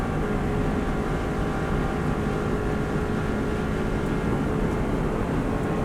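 A Subaru WRX STI rally car held at full throttle on the Isle of Man TT course, its engine a loud, steady, unbroken roar heard from inside without any lift.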